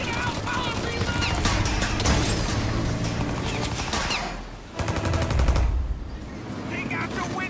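A shootout in the Mafia video game, with rapid bursts of automatic gunfire and single shots crackling over a near-continuous roar, a brief lull midway before the shooting resumes, voices shouting at times.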